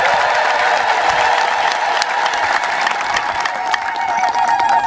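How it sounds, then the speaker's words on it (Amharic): Crowd applause with ululation welcoming church fathers at the eve of a bishop's seat inauguration, a dense sustained burst of clapping and shrill trilling cheers that stays loud throughout. "በታላቅ እልልታና ጭብጨባ እንድታመሰግኗቸው ፈልጋለሁ"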